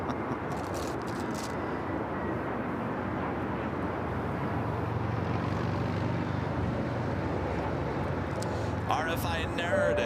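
A jet airliner takes off at LAX and its engines make a broad, steady roar that holds loud and constant throughout. Near the end a faint rattle of nearby handling noise joins, with no talk.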